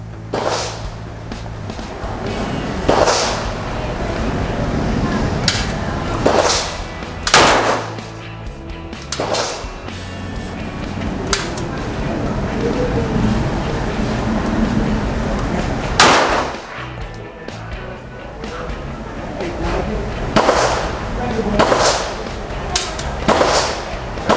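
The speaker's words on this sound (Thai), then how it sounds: "พร้อมแล้วเริ่มยิง" Taurus PT1911 SF .45 pistol fired at an outdoor range, sharp loud shots spaced several seconds apart against steady background noise, with a few fainter reports in between.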